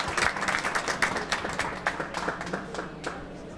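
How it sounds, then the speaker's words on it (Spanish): An audience at an international digital novel award ceremony at a book fair claps for the winner, Héctor, in dense, close, lively applause that gradually thins toward the end. "un aplauso a Héctor"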